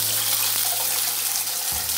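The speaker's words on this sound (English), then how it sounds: "I'm gonna start to add my broth, and I'm gonna turn the stove down as low as I can." Broth is poured into a pot on the stove for chicken noodle soup, producing a loud, continuous close gush of liquid with a low hum beneath, no talk.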